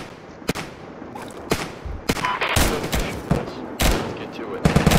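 Gunshots in the Roblox game Deadline ring out as a series of loud, sharp reports over a noisy background, with single shots and quick clusters spread unevenly.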